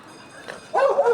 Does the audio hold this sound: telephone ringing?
no